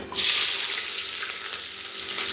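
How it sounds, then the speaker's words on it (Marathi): Onion and green chili dropped into hot cumin tempering for khichdi set off a loud sudden sizzle that stays strong and steady, hissing continuously with no voices. "आता आपण याच्यामध्ये घालणार आहेत कांदा आणि मिरची"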